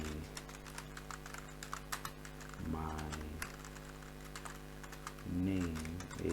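A computer keyboard clicks in scattered keystrokes at low level while a person talks over the typing.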